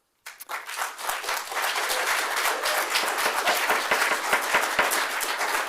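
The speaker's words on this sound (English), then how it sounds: "Let's try and hold the applause." An audience breaks into applause at a city council meeting, starting abruptly after a brief silence and swelling into sustained, fairly dense clapping with individual sharp claps audible near the microphone.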